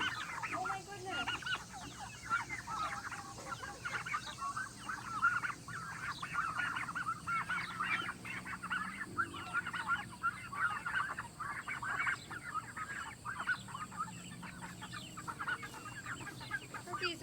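Farmyard poultry, turkeys among them, give off dense overlapping clucks and calls that keep going steadily and close by, with someone speaking now and then over the flock.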